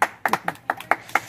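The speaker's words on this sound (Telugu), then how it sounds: "క్లాప్స్ కొట్టండి చాలని." Scattered hand claps from a small group of people, about seven sharp separate claps in an uneven rhythm, close and moderately loud with no voices.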